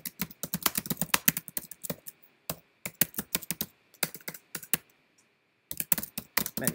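Typing on a computer keyboard, heard close up as rapid bursts of key clicks with short pauses between runs and a longer gap before the final burst; no voices.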